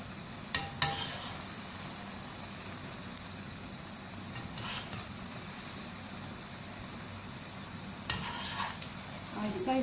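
Potato and spinach pakoras frying in hot oil, a soft continuous sizzle with a few scraping clicks as they are turned over, no talking.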